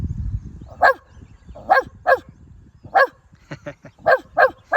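A voice imitates a dog, giving a series of sharp, short barks, some spaced and some in quick pairs, with faint low rumbling noise at the start.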